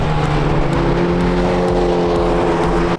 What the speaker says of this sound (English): N bring out their real race cars